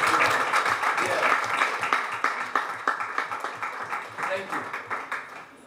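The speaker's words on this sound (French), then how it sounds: "je vais tout simplement demander à l'Assemblée, s'ils sont de connivence avec moi, d'applaudir pour Mr." Audience applause during a press conference, a loud burst of clapping that thins into sparser, distinct claps and fades, with a voice heard alongside.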